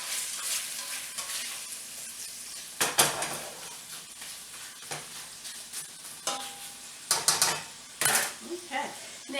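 Smoked sausage and potatoes browning in a pan: steady low sizzling broken by scraping stirs and clanks of a utensil against the pan, with several sharp bursts of clatter up close.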